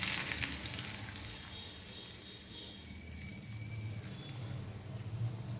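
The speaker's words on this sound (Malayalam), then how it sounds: "ഇനി നമ്മൾ കടുക് വറുത്ത് ഒഴിച്ചു കൊടുക്കുക." Fried mustard seeds, dried red chillies and curry leaves are poured hot into Kerala-style beetroot pachadi, giving a steady close hiss of frying oil that swells slightly toward the end, with no talking.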